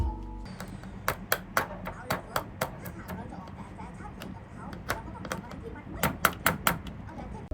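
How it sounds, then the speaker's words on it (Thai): Knuckles knocking on the all-plastic case of a Royal Kludge RK61 keyboard, a run of sharp hollow taps in quick irregular clusters with a short pause, close and distinct over faint room noise. "ตัวเคสของ RK61 จะเป็นพลาสติกทั้งหมดนะครับ เดี๋ยวผมลองเคาะเสียงให้ฟัง"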